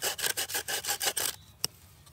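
A hand saw cuts through wood at a riverside summer campsite, with rapid back-and-forth strokes in a steady rhythm, close and clear, then stopping, followed by a single sharp knock.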